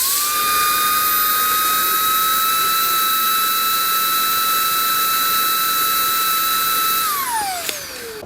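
A Makita cordless leaf blower runs steadily at full power, giving a loud, sustained high-pitched whine with a rushing airflow hiss. Near the end it spins down, the pitch falling away quickly.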